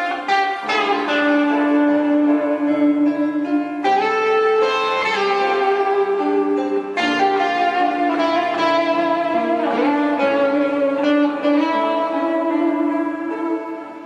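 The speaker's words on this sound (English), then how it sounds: "At maximum volume and 1 meter from the projector, it sounds like this." Music played through the two built-in 5-watt stereo speakers of a Wanbo X5 projector at maximum volume from one meter away, a steady continuous melody with sustained tonal chords and no voices.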